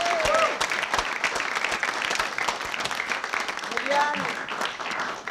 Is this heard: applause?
yes